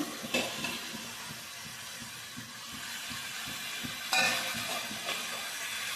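Raw mango pieces stirred into a sizzling chicken curry, a soft steady sizzle with two scraping stir sounds and faint pan clinks, quiet and close.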